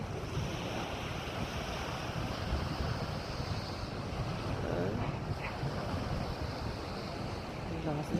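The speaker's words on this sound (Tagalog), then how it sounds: "Ang laki ng tubig, oh." Strong waves and rushing water pound a beach after heavy rain, a continuous loud roar of surf with wind buffeting the microphone.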